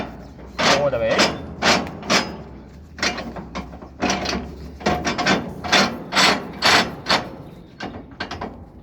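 Close, repeated metallic ratcheting and grinding bursts as a twist lock on a swap body container is closed and cranked tight, with short rhythmic strokes and pauses over about nine seconds.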